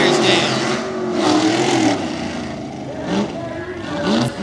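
Tough trucks roar through a championship race at Meyersdale, Pennsylvania, engines revving and droning loudly nearby while an announcer talks over the din.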